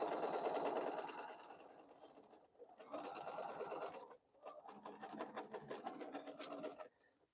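A sewing machine stitches an X across a quilted fabric bowl cozy, running in steady humming bursts with short pauses between runs, soft and close.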